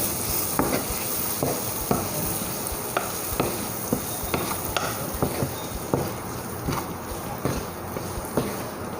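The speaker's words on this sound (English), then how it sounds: "Now we will mix everything so that the paneer gets coated into this masala, and then let it cook on medium flame for about 1 minute or so" Paneer cubes frying in spiced butter masala over a medium flame, a steady sizzle broken by regular scraping strokes of a spoon stirring the pan, close and continuous for several seconds.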